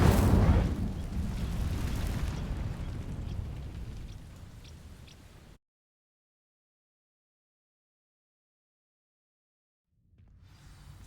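The Incendio fire spell in the Hogwarts Legacy video game ignites dry vines: a loud, roaring whoosh of flame that gradually fades away into silence, followed by faint ambience returning.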